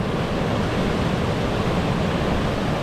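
Floodwater in Uttoxeter in 2023 rushes with a steady, dense broadband roar, close and unbroken throughout with no voices.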